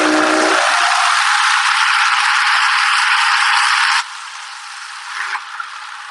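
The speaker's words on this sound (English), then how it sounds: "those blades are really chopping those vegetables" A Vitamix vacuum blender chops vegetables with a loud, steady high-pitched whir and rattle that drops to a softer level partway through, with a few small bumps near the end.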